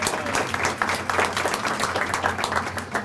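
Audience applause at a library grand opening, a moderate crowd clapping in a lively, uneven patter with individual claps standing out.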